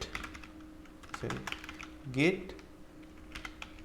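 Scattered, quick keystrokes on a computer keyboard while git commands are typed, light close clicking with a brief voice sound partway through.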